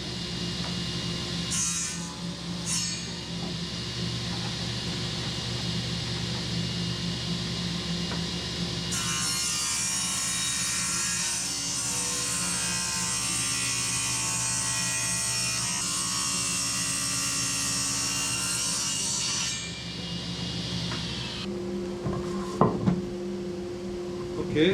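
A power saw rips lengthwise through a wooden board guided along a fence, a steady, loud whining cut that holds for most of the stretch, with a brighter, harsher stretch midway before winding down and a few clunks at the end.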